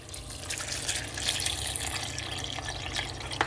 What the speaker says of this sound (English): I'm gonna add some water to my blender